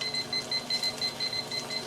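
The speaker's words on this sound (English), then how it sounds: "Sorry for the beeping." Repeated electronic beeps from the control panel of a smart cooker as it is set for cooking, about a dozen short, even tones in a steady series under a faint background hum.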